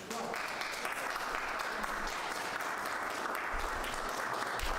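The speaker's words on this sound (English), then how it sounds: "pause for applause." Sustained applause from a room full of people greets the president and vice president at an inauguration, a dense steady clapping throughout, close and even in loudness, with some voices underneath.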